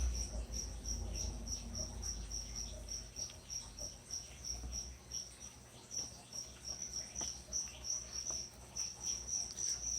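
Crickets kept as live gecko food chirp steadily and close by in a fast, continuous pulsing trill, with no voices over it.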